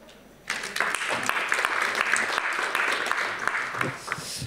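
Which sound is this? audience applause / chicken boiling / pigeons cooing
audience applause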